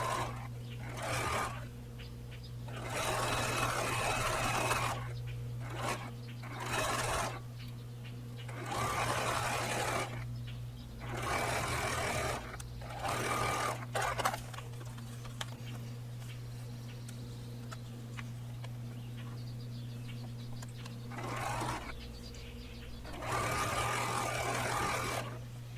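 A sewing machine stitches a long inner border strip onto a paper-pieced table runner quilt, running in repeated close bursts with short pauses, over a constant low electrical hum.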